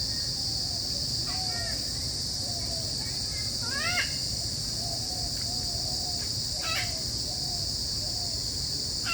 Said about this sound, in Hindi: बहुत विभिन्न तरह के पक्षी हैं यहाँ पे।